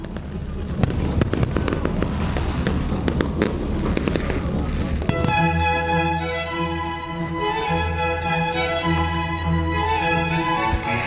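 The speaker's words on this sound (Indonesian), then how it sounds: "Pesta kembang api di GWK berlangsung selama kurang lebih 5 menit" A New Year fireworks display crackles and pops in dense, continuous bursts, and about halfway through the sound shifts to a steadier, tonal ringing layered over the ongoing booms.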